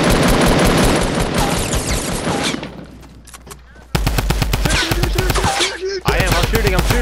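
Rapid automatic gunfire from a player shooting in a video game, loud, dense bursts that stop briefly and then resume with sharp repeated shots.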